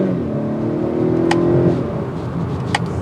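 A 2022 Honda Accord Sport 2.0T accelerating in sport mode, its engine note rising steadily and loud from inside the cabin, with a couple of brief sharp clicks over the hum.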